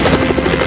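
A helicopter hovers in an action film scene, its steady rotor thump and engine whine loud and close throughout the brief moment, with no voices heard.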